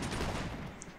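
Cannon and musket fire exchanged on a Napoleonic battlefield in Mount & Blade Warband: a dense, faint, continuous rattle of massed gunfire rumbling together without a break.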